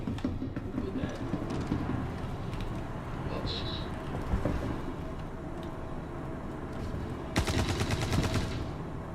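Gunfire in the Star Citizen game, scattered shots and a sharp burst near the end, heard over a busy rumbling background with a voice talking at times.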